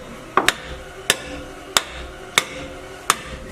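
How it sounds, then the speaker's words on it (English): Five sharp metallic hammer strikes on a stuck drum brake of a Dodge Challenger, spaced about half a second to a second apart, close and loud with brief ringing. "Take a good old hammer."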